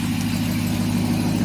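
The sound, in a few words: Dodge Ram 1500 TRX supercharged 6.2 liter V8 engine idling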